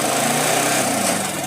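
A Yamaha Vixion motorcycle engine runs after being shifted into first gear, a steady, close buzzing drone over a brief moment.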